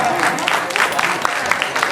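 An audience at a devotional Mata ki Chowki stage event claps loudly, a brief dense burst of applause with scattered sharper claps, close and steady throughout.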